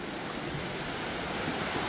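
Water rushes steadily down a mountain stream in Myungji Valley, Gapyeong, a loud, close, continuous broadband roar with no pauses or voices.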